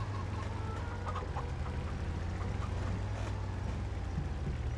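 Soft clucking from a group of chickens in the farming video game Farming Simulator 25, over a steady low hum and constant background noise.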